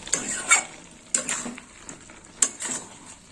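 A spoon stirs vegetable curry with boiled potato and carrot in a pan, giving three distinct scraping, clinking strokes over a quiet sizzle.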